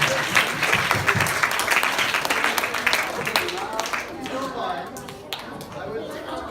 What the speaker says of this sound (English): Can we give a round of applause for our new alpaca parent?